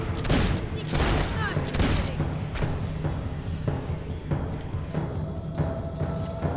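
Gunfire from the video game Fable 2 comes as a steady run of loud shots and blasts that sound like a fusillade, with game noise and voices mixed underneath.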